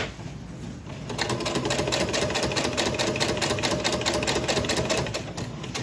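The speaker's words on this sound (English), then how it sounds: "I'm just going to start stitching" Sewing machine stitching quilting fabric around a heart shape for a Christmas wall hanging, a close, even run of rapid needle strokes that starts after a short pause and carries steadily, with no talk.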